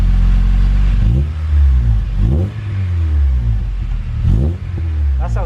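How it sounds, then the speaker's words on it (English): Honda EP3 with a K24 engine and Twinloop exhaust revving hard in three loud, close bursts, each rising and falling over a deep, steady idle rumble. "Just rev it, George."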